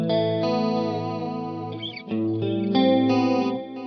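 Electric guitar with its pickup selector in position 2, all three pickups combined and an effect engaged, playing sustained chords with a shimmering chorus-like sheen; the chords change partway through and ring out loud and clear on their own.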